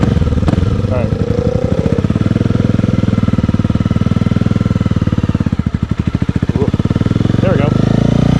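A Honda CBR250 motorcycle engine idles and then pulls away, a loud close throbbing putter that rises and falls, with short vocal exclamations over it.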